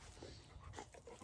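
Dog heard very faintly and close, giving soft whimpering, snuffling sounds in short uneven bursts, with no talking.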